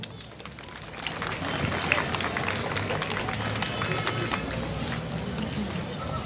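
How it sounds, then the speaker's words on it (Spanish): Dense, steady applause from a crowd at a school band contest, a continuous wash of clapping that swells slightly and holds with faint voices mixed in. "Fuerte las palmas, por favor."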